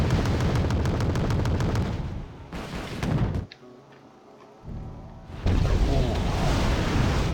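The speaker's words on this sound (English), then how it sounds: "That was a good airstrike." Airstrike explosions from the real-time strategy game WarGame Red Dragon, heavy booming blasts and rapid crackling detonations filling most of the stretch, dropping briefly to a quieter lull before loud blasts resume; a short exclaimed voice is heard.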